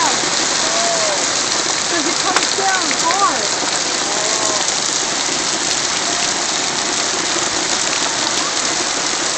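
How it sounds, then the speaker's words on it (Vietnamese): Hail falls in a dense, continuous patter that stays loud and even throughout, with faint voices briefly audible beneath it. "Mưa đá giống như hộp một bán nha ha."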